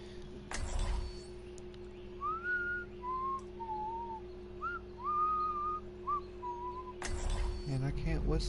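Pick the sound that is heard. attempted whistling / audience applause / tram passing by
attempted whistling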